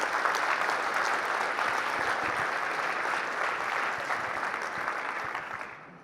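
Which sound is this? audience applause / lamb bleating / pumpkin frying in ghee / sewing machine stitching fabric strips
audience applause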